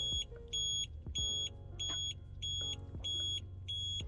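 A TPMS tire pressure monitor for a car beeps in a steady repeating pattern of short, bright electronic tones, about eight beeps spaced evenly, close and clear over low background rumble.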